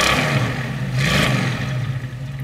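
A 1965 Ford Mustang convertible's 289 cubic inch (4.7 litre) V8 with electronic ignition revs close by, a steady low engine drone swelling briefly in a couple of throttle blips over about two seconds, no talk.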